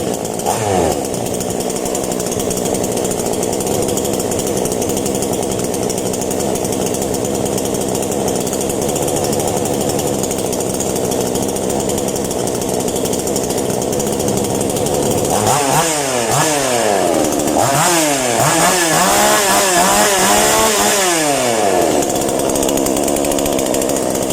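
An Arto 7500 E gasoline chainsaw runs steadily close by, its engine droning loud and continuous after a brief rev at the start.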